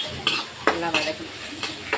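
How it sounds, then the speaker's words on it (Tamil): Tomato thokku being sautéed in a pan, with turmeric and salt just added: spatula scrapes and stirs land in a loose rhythm of about five knocks over a steady sizzle, close and clear. "நல்லா வதக்கணும்."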